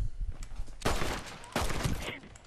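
Gunfire in the Red Dead video game: two loud, close shots about 0.7 seconds apart, each a sharp broadband crack with a short decaying tail over a low background rumble.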